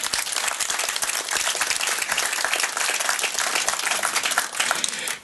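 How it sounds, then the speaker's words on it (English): Audience applause at a golf academy event honoring university championships, a dense, loud, sustained wash of many hands clapping at once, steady throughout and tapering slightly at the very end. "How about that for a round of applause?"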